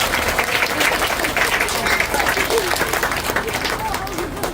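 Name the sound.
children's applause at ceremony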